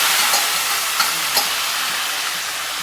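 Chopped tomato mixture fries in a pan for dosa, giving a steady broadband sizzle with a couple of faint stirring clicks, close and continuous with no talking.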